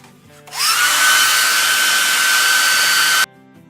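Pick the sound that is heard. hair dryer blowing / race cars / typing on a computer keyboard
hair dryer blowing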